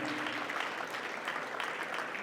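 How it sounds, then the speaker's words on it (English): Audience applauding children at an award ceremony, a steady dense wash of clapping holding at even loudness for a couple of seconds with no voices. "I encourage everybody to applaud the kids"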